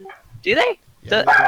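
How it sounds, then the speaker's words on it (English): A dog yips and barks twice in short, close bursts, with people chatting in between and over the barks. "And that's a dog."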